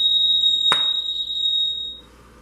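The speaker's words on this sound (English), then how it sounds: "and the alarms are still going off." Smoke alarms going off indoors, a piercing steady high beep held for nearly two seconds, broken by a brief sharp knock partway through, then fading into quiet room tone.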